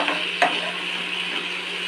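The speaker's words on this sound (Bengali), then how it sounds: "কিছুটা সবজি ভাজা হয়ে যেত এবারে ভালোভাবে মিক্স করে নিচ্ছে" Drumstick stems, potato and eggplant fry with salt, turmeric and spices in a pan, holding a steady close sizzle while being stirred, with one sharp clack of the spoon early on.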